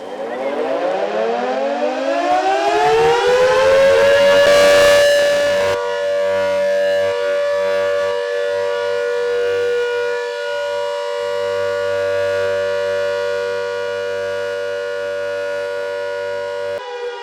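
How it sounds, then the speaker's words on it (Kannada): A civil defence warning siren sounds during a mock air-raid drill in Bengaluru, its tone sweeping up steeply to a loud sustained wail, then holding a steady, slightly wavering howl for the rest of the stretch with no voices. "ಮೊದಲನೇ ಸಿಗ್ನಲ್ 6 ಬಾರಿ ಹೆಚ್ಚಿಗೆ ಹೋಗುತ್ತೆ, ಕಡಿಮೆ ಆಗುತ್ತೆ, ಹೆಚ್ಚಿಗೆ ಹೋಗುತ್ತೆ, ಕಡಿಮೆ ಆಗುತ್ತೆ, 2 ನಿಮಿಷಗಳ ಕಾಲ."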